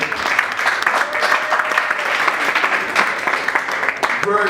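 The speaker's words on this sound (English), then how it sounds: "Very well deserved applause." Steady applause from an audience at an award presentation fills the whole stretch, dense clapping with a brief lull near the end.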